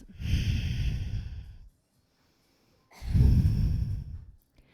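Two long, deep breaths during yoga practice, each a slow rushing inhale-exhale lasting over a second, separated by a brief silence and heard close with no talking.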